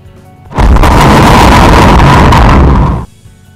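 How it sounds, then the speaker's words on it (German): A loud explosion sound effect in Magix Video Deluxe 2013 bursts in abruptly and roars as a sustained, rumbling blast for about two and a half seconds before cutting off. "Und da ist halt diese Explosion."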